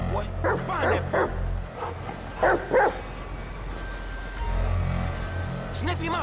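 A dog in Grand Theft Auto V gives several short barks and yips in quick bursts near the start and middle, with whimpers in between, while a voice talks over the game sounds.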